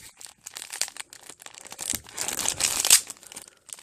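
Sticky tape being torn and peeled off Pokémon booster packs, a close, irregular run of crinkling and ripping bursts that builds louder toward the end.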